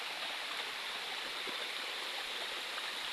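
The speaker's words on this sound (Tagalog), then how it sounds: "Yung falls dito guys." A tall waterfall pours into a shallow stream below, making a soft, continuous rushing hiss that sounds somewhat distant and even throughout.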